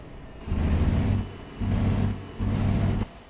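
Scania S 370 truck engine revved while standing still after sitting idle for about fourteen years: three separate low, rumbling rev surges rise from a quieter idle, each lasting under a second, close and heavy.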